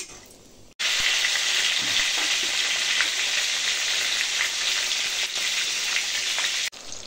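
Bay leaves, dried chillies and whole garam masala spices hit hot oil in a pan and set off an abrupt burst of loud, crackling sizzle that runs steadily and then cuts off, close up and with no voices.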